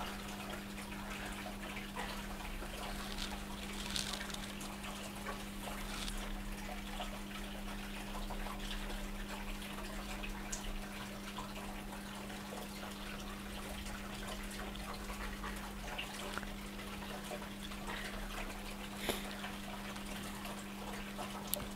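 Water drains steadily out of a Hotpoint 10kg inverter-motor washing machine during a test wash, a continuous low trickling wash of liquid with a steady low hum underneath, no talking.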